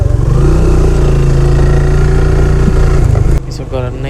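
A motorcycle engine drones steadily and loudly while riding along a rough village road behind two other bikes, with a sustained low hum throughout that shifts abruptly near the end.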